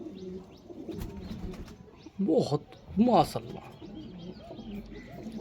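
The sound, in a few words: pigeon cooing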